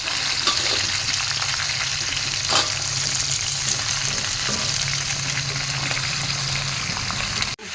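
Chopped vegetables sizzle loudly and steadily in a hot kadai, with occasional scraping stir strokes over continuous close frying and no voices.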